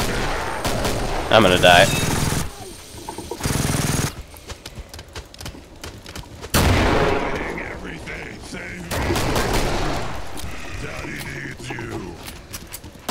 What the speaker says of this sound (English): Oh god, chain gun.